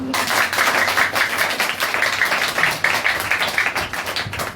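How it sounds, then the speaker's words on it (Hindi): A church congregation claps loudly during a Lord's Supper service, producing a steady, rhythmic wash of many hands beating together for several seconds, with no speech over it. "सभी लोग और जोरदार ताली बजाते हैं।"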